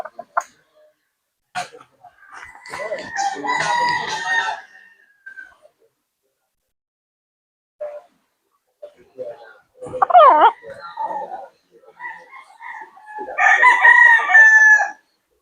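A fighting cock crows several times in bursts separated by pauses, fairly close and loud, with some clucking between calls.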